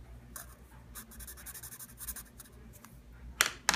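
A pen drawing in a journal, soft close scratching strokes in short bursts, fairly quiet, ending with a louder rustle.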